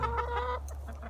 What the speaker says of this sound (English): But look at that hen in the straw right